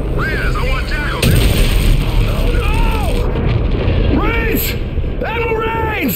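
Enemy weapons fire in Call of Duty: Infinite Warfare, loud booming artillery-like blasts and crackling shots amid a dense battle din, with voices and chirping radio tones over the top.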